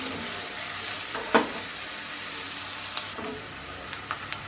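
Chopped onion and garlic frying gently in a pan for chilli chicken fried rice, a steady soft sizzle with occasional stirring clinks and scrapes, close and alone without voices.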